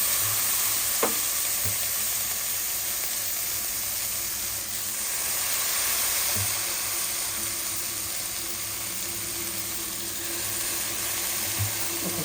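Flattened rice (poha) fries and sizzles steadily in a pan, a loud continuous hiss with a few soft scrapes and knocks of stirring.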